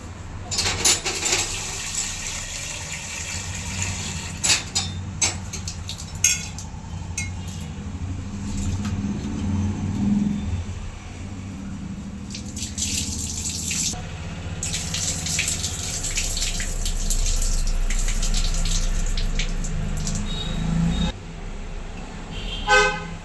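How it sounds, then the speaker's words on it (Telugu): Moong dal being rinsed in water in a home kitchen, with steady running water and soft splashing throughout, plus faint clatter and a low background hum. "పప్పు కడిగి పెట్టుకుందాం"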